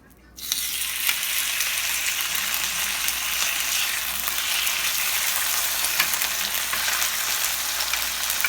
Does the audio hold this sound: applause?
no